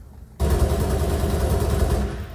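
A sudden loud burst of rapid automatic gunfire from the video game Halo: Reach erupts after a brief quiet moment, continuing as a dense rattling volley before tapering off.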